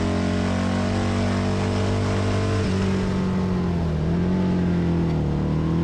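Road Glide bagger motorcycles, including an Alloy Art machine, roar around a Las Vegas race track with a loud, continuous engine drone whose pitch dips and rises as they pass, and there is no talking.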